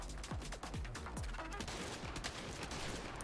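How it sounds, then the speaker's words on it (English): Shotgun blasts in Saints Row reboot ring out in a rapid fusillade, several loud booming shots in quick succession over dense, continuous gunfire and combat noise. "this is a shotgun with a crazy spread"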